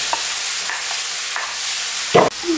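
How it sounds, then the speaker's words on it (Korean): A steady hiss of onions frying in a hot pan with pork, with occasional scrapes and clinks of a utensil stirring, ending in a louder scrape. "그래서 여기다 양파만 넣고 볶아주면 됩니다."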